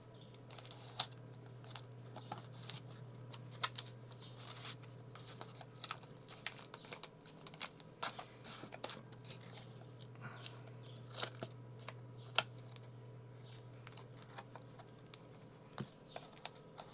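Paper tape pressed and smoothed onto a cardboard box being assembled as a canvas base, giving a steady run of small close taps, crinkles and rubbing scrapes over a low constant hum, with no talking.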